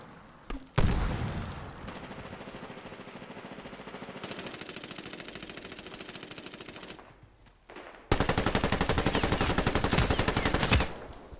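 Rapid automatic gunfire in the multiplayer shooter Medal of Honor Warfighter, loud sustained bursts of shots lasting several seconds, a pause, then another dense burst.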